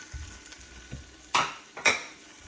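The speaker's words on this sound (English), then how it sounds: "Now, put it on, get them sizzling." Hot dogs sizzle faintly in a pan, broken by two louder bursts of hissing and scraping as they are stirred.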